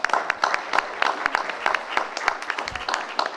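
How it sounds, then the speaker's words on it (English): Scattered applause from a town hall meeting audience inside a church, individual claps distinct and moderately close, fairly sparse and uneven throughout. "Give yourselves a round of applause"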